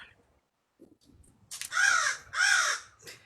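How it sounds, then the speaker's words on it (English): Crows caw outdoors: two loud, harsh caws follow each other closely after a few faint, scattered noises. "The crows are not going to stop."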